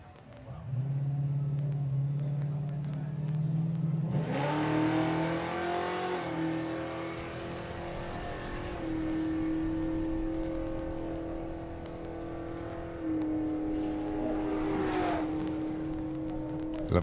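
Nostalgia Superslot Mustang drag racing car making a run, an engine idling low, then revving hard with rising tones and holding a loud, steady roar before a second rev surge.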